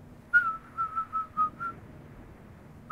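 A person whistles a short run of clear, high notes, about seven quick tones in a row followed by a pause and one more note at the end, alone against a quiet background.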